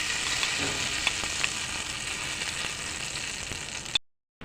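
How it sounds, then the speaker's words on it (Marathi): Steady hot sizzling crackles with a few sharp pops as a curry-leaf and chilli tempering is poured over coconut chutney, close and bright, then cuts off abruptly near the end. "चटणीवर ही फोडणी घाला"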